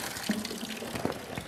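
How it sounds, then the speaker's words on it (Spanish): Water running from the outlet of an automatic water softener after its valve is opened, a steady close splashing flow with a few gurgles. "Se abre esta válvula, ingresa el agua, sale y puedo ver acá si tengo agua o no. Sale el agua"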